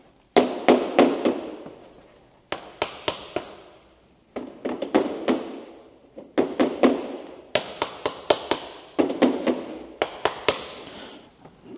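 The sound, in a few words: footsteps on Fortelock plastic interlocking garage floor tiles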